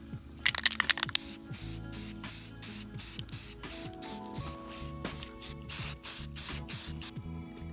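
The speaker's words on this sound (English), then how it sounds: "This is the same flat black paint we used in the last holiday special. Flat black with primer" Flat black paint with primer sprayed from a can onto a control box: a rattle of the mixing ball first, then repeated loud hissing bursts of spray with short gaps, close up and alone.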